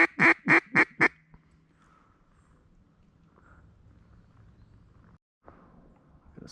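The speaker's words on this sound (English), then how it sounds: "Pretty good ball of ducks right here, flying around looking to land." Ducks give four loud, rapid quacks in quick succession at the start, followed by fainter scattered calls and quiet outdoor background during a public land walk-in duck hunt.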